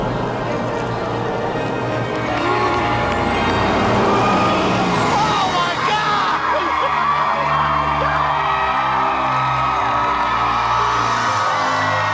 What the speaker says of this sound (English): Bus driver, move that bus!